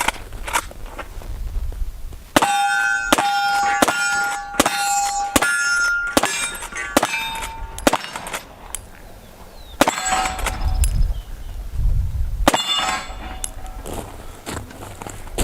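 Lever-action rifle fired offhand at steel targets, each loud shot followed by a ringing metallic clang of the plate, several spaced reports with lever cycling between them, outdoors and alone without talk.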